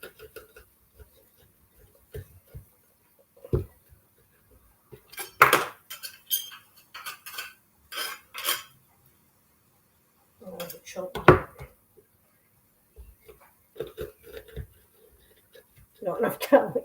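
A small garlic press is worked while stuffed eggplant is being cooked, producing sparse metallic clinks and clacks in short bursts separated by quiet gaps, with a person talking between them.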